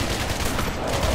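Rapid, dense gunfire from the co-op video game Alien Breed forms a continuous, loud crackling barrage that fills the whole short stretch with no pause.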